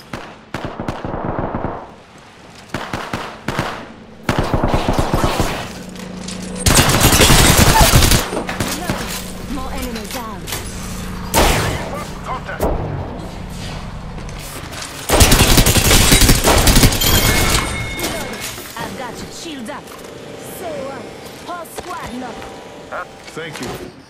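Gunfire in the Apex Legends shooter game, with loud bursts of rapid shots and heavy blasts coming in clusters between quieter stretches, while a voice talks over the action.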